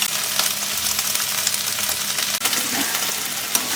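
Chicken fries in oil in a pan, giving a loud, steady, close-up sizzle with crackling texture throughout and no talk.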